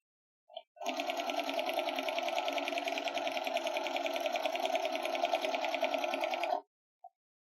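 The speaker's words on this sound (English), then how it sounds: "we're going to sew these together as well" A sewing machine runs steadily for about six seconds, stitching two fabric pieces placed right sides together, with a dense, even mechanical whir that starts and stops abruptly. A short click sounds just before and after.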